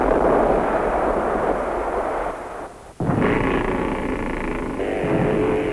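Heavy World War I artillery fire in archival documentary footage, a loud, dense rumble of guns that drops away briefly and then resumes with a sharp blast and continued booming.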